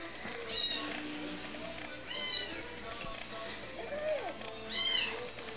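Four-week-old Birman kittens meow in high, thin cries, several separate mews over a quiet room, with soft background voices.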